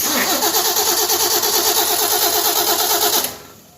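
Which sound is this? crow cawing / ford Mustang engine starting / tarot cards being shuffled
ford Mustang engine starting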